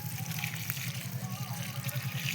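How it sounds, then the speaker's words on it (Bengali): Water poured from a mug onto the soil around a pumpkin plant, a soft continuous trickle and splash at low level with steady background noise. "ফোড়গুলোতে মাটির তলে তুপি দিয়েছি আর এক মগ করে জল দিয়ে দিচ্ছি"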